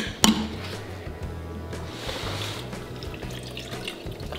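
Milk is poured for a smoothie as a steady close splashing stream that starts after a sharp knock and runs on without voices.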